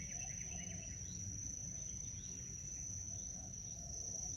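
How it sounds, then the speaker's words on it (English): Crickets and insects chirp in a constant shrill drone outdoors in Bali, with faint distant bird calls in the background. "I hope you can hear all of the birds and the insects."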